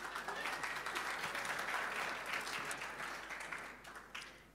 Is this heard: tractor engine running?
no